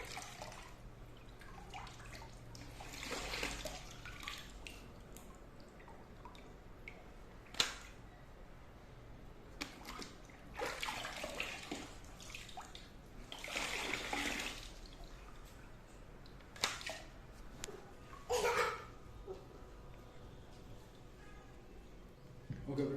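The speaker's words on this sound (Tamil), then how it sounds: "அப்படியே தண்ணியில் வந்து முக்கி அந்த லிவரை மட்டும் புல் பண்ணால் எல்லா டஸ்ட்டுமே வெளியே வந்துடும்" A mop is dipped into a water bucket and its wringer lever pulled, giving several bursts of splashing and draining water between quieter pauses, with a voice speaking in between.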